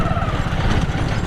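Hero Honda Splendor motorcycle engine running while riding during a mileage test, a steady mid-pitched hum with wind noise, continuous and close, no talk.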